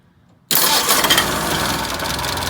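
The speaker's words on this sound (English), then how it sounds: "This has been sitting for a while, so the engine is starting cold." A 1948 Crosley CoBra engine, cold after sitting, fires abruptly after a brief quiet moment and settles straight into a loud, steady, slightly rough idle close by.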